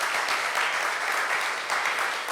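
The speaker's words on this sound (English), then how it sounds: "Let's give them a round of applause." Steady, dense applause from a gala audience at an anniversary celebration, loud and continuous throughout with no pauses, a sustained wash of many hands clapping at once.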